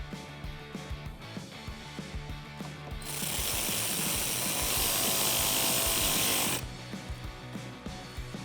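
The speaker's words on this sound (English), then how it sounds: "install the 3 T30 Torx screws and use our T30 Torx socket to tighten them up" A hand ratchet with a T30 Torx socket tightens three Torx screws while installing turn signals on a Jeep Wrangler JL, giving scattered clicks, then a steady broadband burst in the middle, then more clicking.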